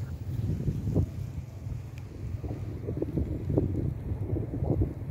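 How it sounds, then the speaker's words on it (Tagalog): Steady low wind rumble buffeting the microphone outdoors at a garlic planting, with faint scattered knocks and rustles over the top. "So, mahangin-hangin pa rin."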